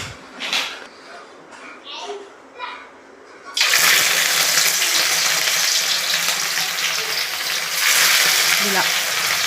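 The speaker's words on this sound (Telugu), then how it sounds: "ఇలా ఫ్రెండ్స్ కొద్దిగా గోల్డెన్ కలర్ వచ్చే వరకు ఫ్రై చేసుకోవాలి." Fish pieces hit hot oil in a pan and break into a loud, steady sizzle that holds for several seconds, after brief quieter kitchen sounds and a voice at the start.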